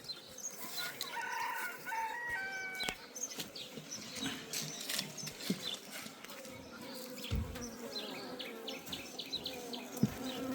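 Bees buzz densely around a honeycomb in the hollowed roots of a banyan tree, a close, continuous hum; a rooster crows faintly in the background early on.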